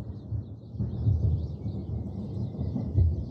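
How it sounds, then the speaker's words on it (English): Thunder rolls as a low, sustained rumble that swells and lingers for several seconds, moderately loud, with faint bird chirps high above and no speech. "That is thunder."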